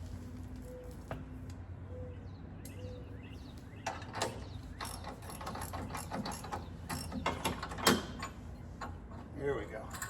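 Repeated ratcheting clicks as a threaded bolt is tightened down on a Swagman bike rack for a Lectric XPeak 2.0 e-bike, uneven bursts of metallic clicking close by and growing busier toward the end.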